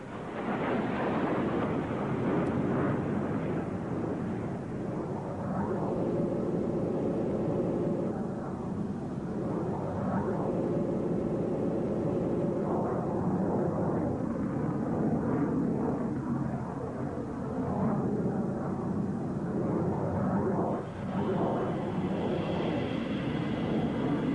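Jet engines of MiG-21 Fishbed aircraft in an aerobatic formation roar steadily and fairly loudly throughout, a broad continuous rumble that rises and falls a little as the jets pass.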